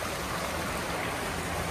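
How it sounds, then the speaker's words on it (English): A creek flows past along a hiking route, a steady, even rush of moving water heard close and uninterrupted, with no voices. "Get to cross one more creek."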